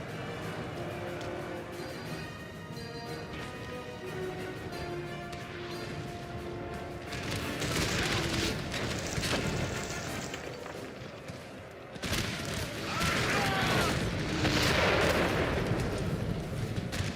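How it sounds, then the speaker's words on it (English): Cannon artillery fire in the video game Napoleon Total War, a dense series of booming blasts and crackling gunfire that swells louder through the second half over a steady background of battle music. "Oh, I love it when I get cannons in good positions."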